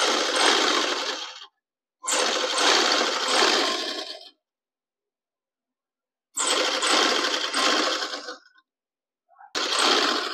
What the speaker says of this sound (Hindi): मैं सिलाई लगा रही हूँ यहाँ पे